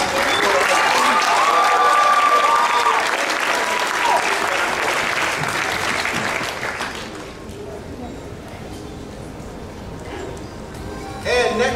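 Audience applause at an anime convention costume contest, a dense sustained clapping crowd that swells loudly at first, then thins and fades after several seconds with some crowd murmur.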